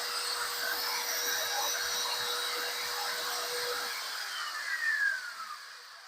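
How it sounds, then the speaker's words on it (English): A steady high-pitched whine of a small power drill running continuously up close, then winding down near the end. "just in case you couldn't hear me over the drill"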